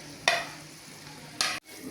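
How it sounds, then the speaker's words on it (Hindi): Masala-coated fried okra, rubbed with spices and yogurt, is tipped into a pan and stirred, giving two short bursts of sizzling scrape over a faint background hiss. "और जो मैंने भिंडी फ्राई की थी ना, मसाले लगा के, सारे मसाले लगा, दही शेन सब कुछ लगाया मैंने, तो अब इसके अंदर डाल दें।"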